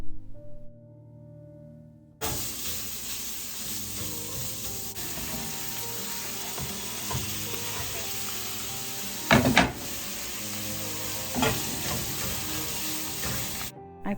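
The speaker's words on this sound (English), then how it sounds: "I brown sausage in a pan with some white onion" Sausage and white onion brown in a pan with a steady, close sizzle and fry hiss that starts abruptly and runs continuously, with occasional louder stirring bursts and clinks, then cuts off at the end.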